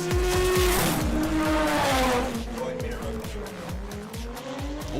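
A TVR car at a street-car drag race revs hard, its engine note climbing through repeated loud, rapid gear-like pulses with tire squeal, close and dominant over the crowd ambience.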